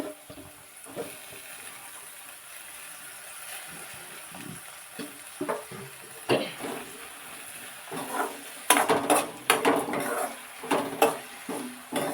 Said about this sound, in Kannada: ಟೊಮೆಟೊ ಹಾಕ್ತೀನಿ